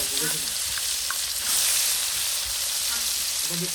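Fish marinated in turmeric and chili sizzling in hot oil, a continuous bright frying hiss with occasional pops and stirring, voices briefly audible underneath.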